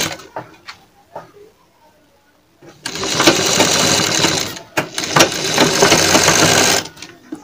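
An electric sewing machine stitches piping onto a dress, running in two long steady whirring bursts separated by a short pause, loud and close, after a few quiet handling taps.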